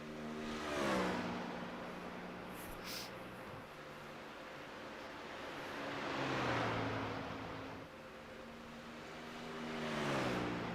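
A BMW race car on its out lap in a racing video game, engine revving up through the gears, swelling and easing in repeated waves, steady and fairly close, with no talking.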